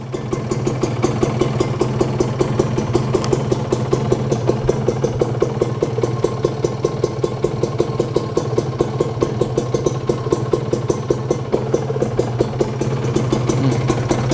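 A Kawasaki Serpico motorcycle engine idles steadily right after starting, a close, even, loud rumble with a fast regular pulse that holds without change throughout.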